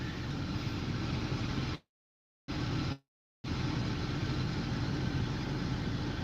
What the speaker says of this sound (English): The truck next to me is making a terrible noise.